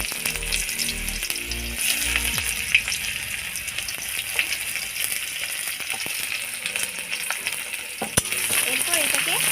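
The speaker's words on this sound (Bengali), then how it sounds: "এরপর এটাকে একসাথে মিক্স করে পেঁয়াজ কুচিগুলোকে ভেজে নেবেন এইভাবে।" Chopped onions fry in a pan, a steady close sizzle with clinks and scrapes of a utensil, and a few heavier thuds near the start.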